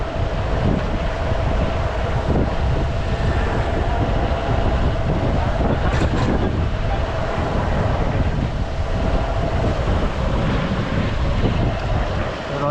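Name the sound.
river water and wind at Mundali bridge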